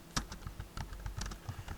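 Keys clatter on a computer keyboard while a SAP S/4HANA SCM project name is typed in, with an irregular run of close, crisp clicks and no voices.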